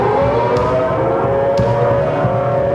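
A tornado warning siren wails continuously and loudly over a steady roar of rumbling noise, with no voices.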